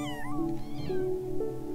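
Kittens meow continuously in overlapping, high thin cries, rising and wavering, close and fairly soft, with no talking.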